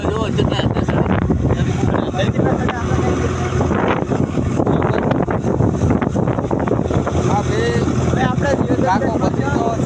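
A tractor rolling along a road, a loud continuous engine rumble mixed with heavy wind buffeting the microphone, while voices talk over it.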